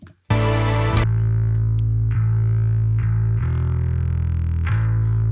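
A bass guitar plays loud, sustained low notes through a thick effects preset, several plucked notes ringing into one another, close and alone.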